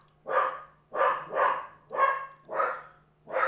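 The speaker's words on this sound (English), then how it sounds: "Oh my goodness, the dog." A dog barks close by in a run of six evenly spaced loud barks over a quiet background hum, with no speech.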